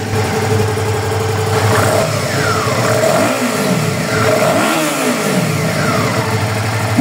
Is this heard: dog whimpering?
no